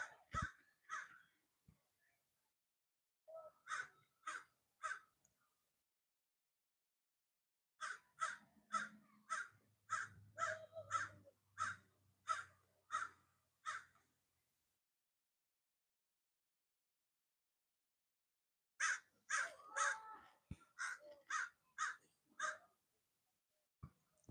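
Outdoors, a crow caws in repeated runs of several harsh, evenly spaced calls separated by quiet gaps, fairly close and clear, with a faint voice beneath one run.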